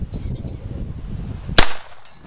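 A single sharp shot rings out from a Beretta Neos .22 pistol on a target range, loud and close with a brief echo tail, following a stretch of low ambient rumble.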